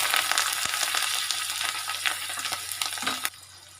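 Curry leaves and chillies crackle in hot oil for a dhokla tempering, giving a dense, close sizzle with sharp pops that dies down near the end.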